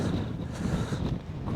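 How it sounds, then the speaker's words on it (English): Steady wind buffeting the microphone high on a Scottish mountain in the Fisherfield wilderness, a continuous low roar and rumble filling the short stretch, close and fairly loud, no talking. "Oh, that wind."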